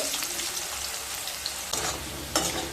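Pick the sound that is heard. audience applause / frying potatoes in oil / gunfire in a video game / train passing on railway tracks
frying potatoes in oil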